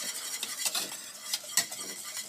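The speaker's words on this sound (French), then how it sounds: "vous mélangez bien tout ça. On va faire une super sauce tomate" Tomato sauce is stirred in a pan with a utensil, giving steady close scraping and soft clinking strokes in an uneven rhythm, fairly quiet, with no voices.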